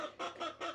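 A hen clucking in a nesting box on a farm, three quick, faint clucks in a steady rhythm, close by and alone.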